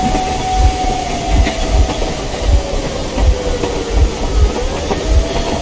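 Train in the video game Metro Exodus rumbling loudly and steadily with rhythmic low clacking thumps from the rails, a long tonal whine sliding beneath, and a constant hiss over the top.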